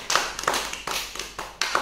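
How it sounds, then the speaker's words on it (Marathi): Children in a third-grade classroom clap for a classmate, a few brief bursts of close hand claps spaced in uneven rhythm, sounding like a small scattered group rather than full applause. "तिच्यासाठी टाळ्या वाजवा."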